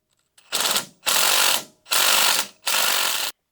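Four quick ratchet strokes, loud and close, as the wrench works a brake caliper bolt loose on a 1999 Ford Ranger, each burst of clicking separated by a short pause, with no talk.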